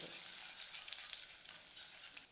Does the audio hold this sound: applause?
no